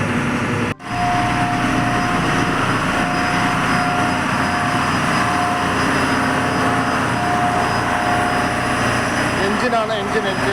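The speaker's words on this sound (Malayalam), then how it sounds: "എഞ്ചിനാണ്, എഞ്ചിൻ." A boat engine runs steadily and loudly throughout, a continuous droning hum near an island, with a brief dropout near the start and a faint steady tone riding over the drone.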